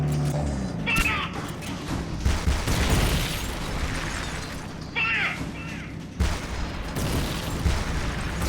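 Gunfire in the video game Metal Gear Peace Walker sounds as a few sharp bursts and thuds amid game noise, under an excited player talking almost nonstop.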